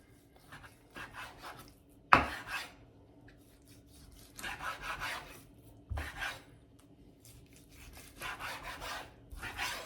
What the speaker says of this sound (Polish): Oczyszczone mięso kroję w plastry.